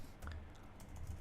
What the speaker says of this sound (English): all you gotta do is that you just basically type in the equation